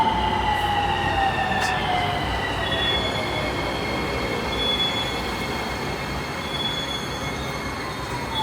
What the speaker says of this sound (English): So here's the train.